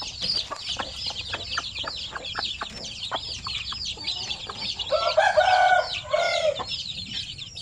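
Native Zampen chicks and chickens give a steady run of sharp, high peeps and clucks, with a louder cluster of calls in the middle, close by on a farm with no talking.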